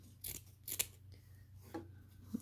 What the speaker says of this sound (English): cut the seam allowance down in half